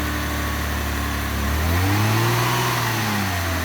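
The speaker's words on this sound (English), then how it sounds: "Tap the accelerator a little bit." Mitsubishi FTO engine idling, then rising in a single smooth rev as the accelerator is tapped, close and steady with no talk.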